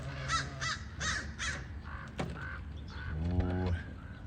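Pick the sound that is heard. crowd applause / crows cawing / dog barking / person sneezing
crows cawing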